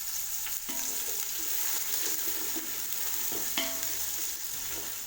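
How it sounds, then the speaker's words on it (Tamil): Sliced onions sauté in hot oil for chicken biryani, a steady close sizzle with intermittent scrapes and knocks of a spoon stirring the pan, no voices. "சேர்த்துட்டு வெங்காயத்தை நல்லா வதக்கி விடுங்க."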